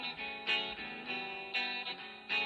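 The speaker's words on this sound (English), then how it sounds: "you can hear the guitar here, but it's also on the right hand side with reverb" An electric guitar with added reverb plays back sustained, ringing chords in a steady strummed pattern, each attack blooming into a washy tail, moderately quiet and without voices.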